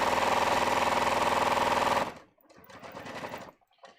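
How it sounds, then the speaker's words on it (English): A sewing machine stitches a pant side seam near the crotch of fitted trousers, running fast and steady for about two seconds before stopping abruptly, then a few softer handling sounds and a quiet voice follow. "I'm just sewing this half inch to nothing at the crotch level."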